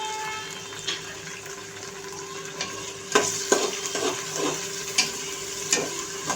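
Tomatoes frying with onion in a pan for chickpea rice, a steady sizzle with stirring scrapes and a few sharper clinks of a spoon against the pan, close and moderately loud with no talking.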